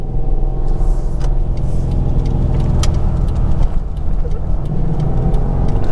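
A 2020 Subaru WRX with a manual gearbox cruising through town, a steady low engine and road rumble heard from inside the cabin, with a few light clicks and knocks over the drone.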